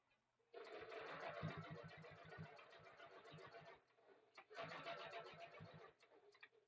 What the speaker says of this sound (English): you're just going to sew across there, reverse your stitch at the start and at the end